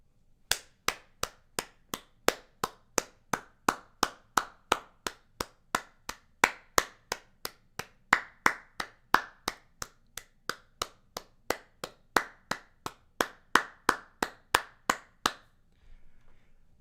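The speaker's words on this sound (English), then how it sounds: "I've got to give it a round of applause." One person clapping alone at a slow, even pace, about thirty sharp, close claps in a steady rhythm, then a short quiet pause with faint room noise, no talking.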